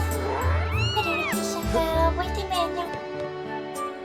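A cat meows in The Legend of Zelda: Skyward Sword, with a few drawn-out rising and falling mews over game music and soft background sounds, and a faint voice briefly present.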